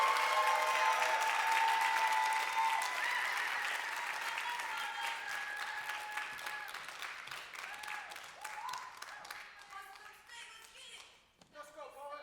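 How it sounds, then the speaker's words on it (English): A poetry slam audience breaks into loud, sustained applause that gradually thins out into scattered claps, with a voice speaking over the crowd. "Clap it up for Eric."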